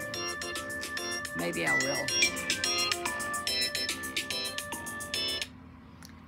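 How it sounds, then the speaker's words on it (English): A phone rings with a repeating electronic melodic tone, several bursts in a row, while a person speaks briefly over it before the ringing cuts off. "I'm not answering that phone."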